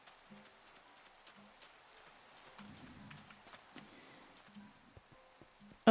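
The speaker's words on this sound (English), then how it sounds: "I am tired of this rain." Rain falls in Minecraft, a faint, steady patter of scattered drops with low muffled thumps beneath, continuous and fairly quiet throughout.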